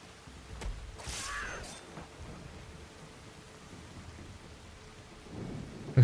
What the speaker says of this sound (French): Oh, comment il pleut.